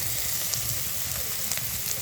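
Chopped onion and green chilli sizzle in a pan with vegetables for veg chow mein, a steady crackling fry with faint stirring.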